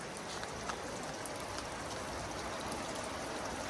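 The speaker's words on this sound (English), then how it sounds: "That's all I've heard all morning is like water, just rushing water." Broadband rushing water from streams running everywhere along the Appalachian Trail on a wet day, a steady close wash with no break and no voices.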